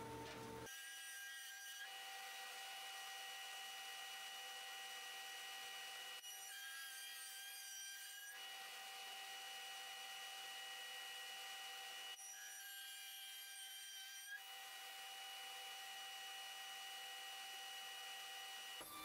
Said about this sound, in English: I'm just gonna send it through my 52-inch planer